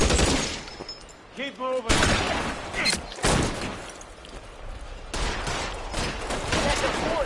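Gunfire in the video game L.A. Noire comes in loud, close bursts and rapid volleys, with sharp cracks between them and shouting voices mixed through the firefight.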